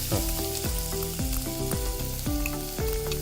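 Onion and garlic sizzle in hot oil for a tempering, a loud, close, unbroken frying crackle set against a recurring tonal melody.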